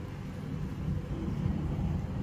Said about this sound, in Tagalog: kung maririnig nyo po ay may ingay siya kasi umaagos yung tubig ngayon.